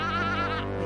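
A sheep bleats in one sustained, wavering call lasting about a second, close and fairly loud with no voices around it.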